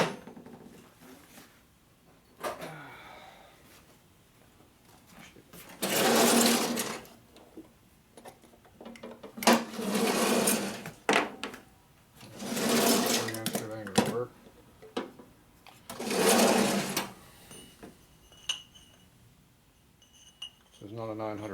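Honing 1977 Harley-Davidson Sportster ironhead 1000cc cylinders for new rings gives a harsh grinding whir in repeated bursts of a few seconds each, loud and close, separated by quieter pauses with some clinking.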